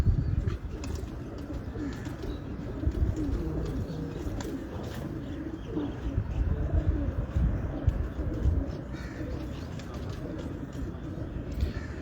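Bloodline pigeons in Karachi cooing, with soft low coos that repeat steadily over a dense, constant backdrop of flock noise and faint chirps, with no talk.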